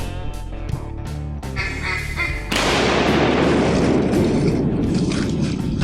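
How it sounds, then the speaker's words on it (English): Shotgun blasts ring out at ducks in flooded timber, a few sharp booms amid duck calls and honking, then a sustained loud roar of wings and splashing water. "Shoot those ducks. Shoot them."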